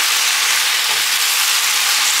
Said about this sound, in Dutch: ik ben lekker aan het koken